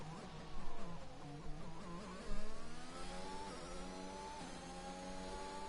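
Race cars howl at full throttle in a racing video game qualifying session, several engines droning together with rising, overlapping pitch and a couple of louder surges as cars pass close.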